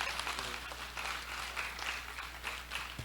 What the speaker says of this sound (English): let's give a warm round of applause for our panelists today